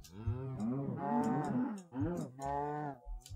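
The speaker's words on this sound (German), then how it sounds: "Hallo, Kuh." A cow in the video game Minecraft moos three times in a row, clear and close, with long drawn-out lowing calls separated by brief pauses.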